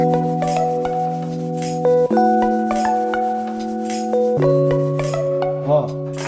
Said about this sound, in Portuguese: eu vou começar a lixar um pouco mais rápido